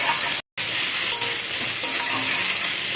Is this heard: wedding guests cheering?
no